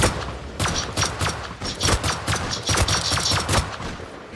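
Semi-automatic rifle fire in the survival video game Rust, a rapid run of sharp loud shots with uneven spacing over several seconds, close and with no voices.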